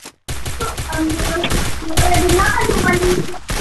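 Rapid gunfire in the Counter-Strike video game, dense bursts of close automatic shots that blend into a continuous rattle, with voices talking over it.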